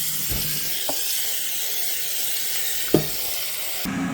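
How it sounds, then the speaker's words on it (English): Electric kettle heating water in a home workshop, a steady close hiss and rumble of water coming toward the boil with a few faint clicks and taps, no voices. "just boiling the kettle"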